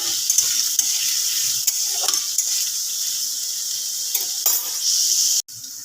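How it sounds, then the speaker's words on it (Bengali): Potatoes fry over low heat in a pan, giving a constant bright sizzle with occasional scrapes and clinks as they are stirred, and one brief dip in the sound near the end. "আলুটাকে আমি একটু ভেজে নিই আঁচটা একদম আস্তে করে ভাজবে"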